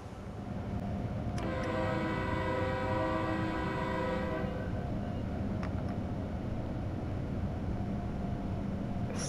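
In the Train Sim World 5 game, an Amtrak Acela Express passes with a loud sustained horn blast lasting a few seconds over steady rumbling rail noise, then continues rolling past.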